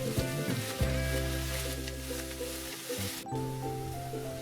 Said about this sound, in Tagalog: Igisa na rin natin ang hiniwang sibuyas ng ilang segundo.